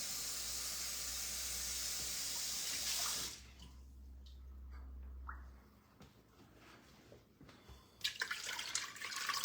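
Water runs from a kitchen tap as a steady, close hiss for about three seconds while measuring water for cranberry sauce, then stops, leaving quiet kitchen clatter.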